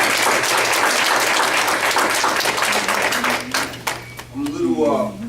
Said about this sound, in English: get another round of applause for starting this off.